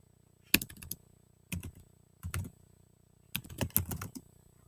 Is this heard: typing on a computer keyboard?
yes